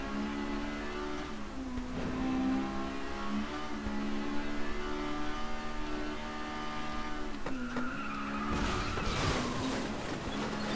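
A car engine in the FlatOut: Ultimate Carnage racing game holds a steady loud drone with shifting revs and a rattly buzz, then a sudden scrape and a rougher burst near the end.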